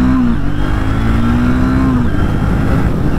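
A 2025 Triumph Speed T4 motorcycle engine runs loud and close, holding a steady droning tone that rises slightly before the revs drop away into a rough, throbbing idle.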